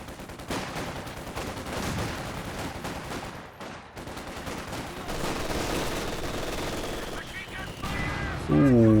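Mortar shell landing amid rattling gunfire in a Company of Heroes 2 multiplayer battle, dense continuous bursts of shots and impacts running throughout, with a louder blast near the end.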